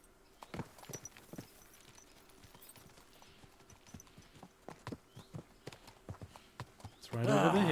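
Horse hooves clip-clopping at a steady walking pace while riding in Kingdom Come: Deliverance II, a medieval open-world game, with distinct sharp strikes over quiet ambience, before a louder burst of sound swells in at the end.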